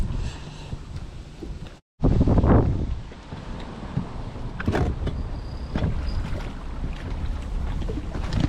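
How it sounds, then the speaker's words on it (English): Gusty wind blows across the Cumberland River, buffeting the microphone in steady low rumbles, with a brief dropout and a few louder bursts and knocks, no talk. "A little windy out here, guys."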